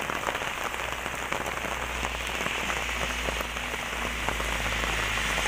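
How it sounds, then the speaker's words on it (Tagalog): Heavy rain pours down steadily during a rainy day in Hong Kong, a dense continuous hiss of drops hitting surfaces with no pauses or voices. "Super lakas ng ulan."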